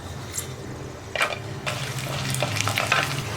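Garlic fries in hot oil with dried red chilies in a kadai, a steady close sizzle broken by a few sharp stirring scrapes, with no talking.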